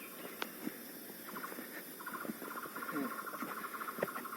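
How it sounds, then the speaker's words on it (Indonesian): Wild birds call through the forest at Gunung Gede Pangrango in West Java, a string of repeated chirps and trills at moderate distance over steady natural background ambience, with no voices. "Burungnya masih banyak tuh burung."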